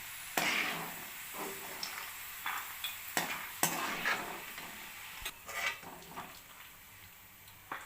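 Flattened rice (poha) frying in a pan, a soft sizzle punctuated by repeated sharp scraping and tapping strokes as a spatula stirs it around.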